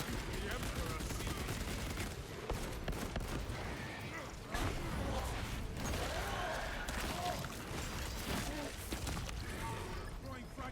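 Heavy bolter fire ripping into a Tyranid swarm in a video game, sustained rapid bursts of heavy gunfire mixed with crunching impacts and chaotic battle noise, all fairly quiet in level.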